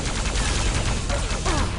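Rapid plasma gun fire in a Quake Live team deathmatch, a dense burst of quick, crackling shots repeating steadily across a short stretch of chaotic game audio.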